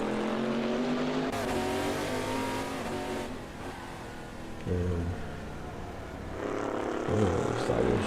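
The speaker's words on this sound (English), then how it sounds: "I think you can still hear the cars." Race car engines from a VR sim racing game roar steadily throughout, with revving pitch shifts and a surge of acceleration near the end, loud and continuous with no talk over them.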